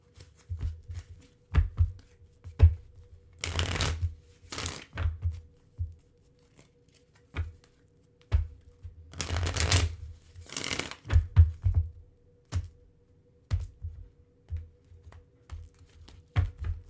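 A Rebel Oracle card deck being shuffled, giving repeated short riffling and tapping bursts with a few brief louder flutters, close by and with no talk.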